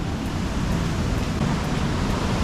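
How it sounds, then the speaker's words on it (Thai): Rushing water at Chet Sao Noi waterfall in Thailand, a steady, dense broadband roar that stays constant and fairly loud throughout, with no voices over it. "ตอนนี้ก็ อยู่ที่น้ำตก เจ็ดสาวน้อยแล้วครับ"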